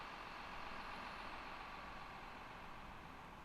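Airport baggage vehicles in Microsoft Flight Simulator 2020 give off a steady, dense engine rumble and hiss that continues without a break.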